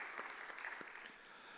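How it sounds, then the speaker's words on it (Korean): Congregation applause after a choir hymn at a Korean church youth service, a faint, brief patter of clapping heard from a distance at low level. "이 시간 박수로 한번 격려할까요?"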